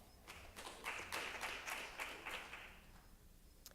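Audience clapping during a college classroom presentation, a short scattered round of hand claps building and then fading out within a few seconds, fairly faint.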